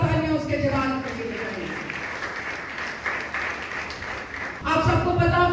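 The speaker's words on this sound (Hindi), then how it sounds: "जोरदार तालियां उसके जलाल के लिए।" A church congregation claps enthusiastically during a worship service, a broad wash of hands rising between stretches of amplified preaching, with a voice speaking over the start and end.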